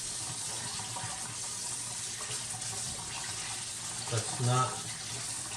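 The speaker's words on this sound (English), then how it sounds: "let me just wash my hands really quick and get the sticky dough" Tap water runs steadily into a sink as dough-sticky hands are washed in a kitchen, a constant close hiss with a brief splash near the end and a short spoken remark.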